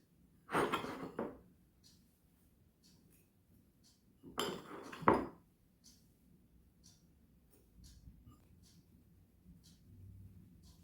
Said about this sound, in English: I'm going to spread it on the top here like butter